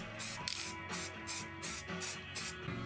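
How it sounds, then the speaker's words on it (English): Several short hissing bursts of black spray paint from an aerosol can onto screws, repeating in a steady rhythm, close and fairly loud against faint background noise. "used some black spray paint to colour them"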